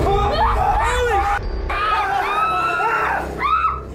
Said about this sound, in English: They all scream as they watch the door stand ajar for a moment before slowly closing again.